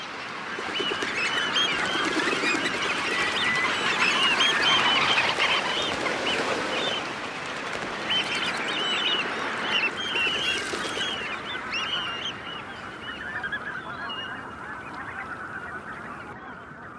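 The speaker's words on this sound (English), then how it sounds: "Already the banks are crowded with hungry birds." Flocks of knot and other shorebirds crowd the estuary sandbars, a dense chorus of overlapping calls and chatter running continuously and loudly throughout.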